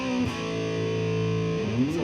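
Electric guitar played through a Rat distortion pedal, a single thick sustained distorted chord ringing out for over a second with a pick attack at the start and a slide at the end.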